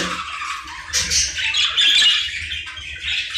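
Budgerigar chicks of the Show Jumbo type, including an opal ash-grey youngster, squawk in harsh, continuous raspy calls, fairly loud and close, with no talking over them.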